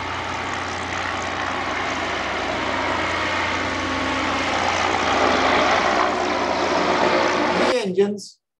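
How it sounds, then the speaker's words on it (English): A modern three-engine airship with one rear and two side-mounted engines flies overhead, giving a steady, loud propeller drone that holds evenly for several seconds before cutting off abruptly at the end. "This is the modern airship that is flying today."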